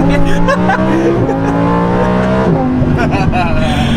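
Lamborghini Performante accelerating hard, its engine note climbing through a gear, dropping briefly at the shift and climbing again, loud and close from inside the cabin.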